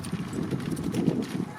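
Horses gallop in an open horse-and-bullock cart race at a village fair, their quick rhythmic hoofbeats close and steady. A commentator talks over them throughout.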